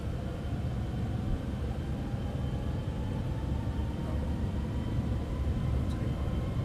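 Continuous low drone and rumble inside an airliner cabin in Microsoft Flight Simulator 2024, even and fairly loud throughout, with no breaks or distinct events.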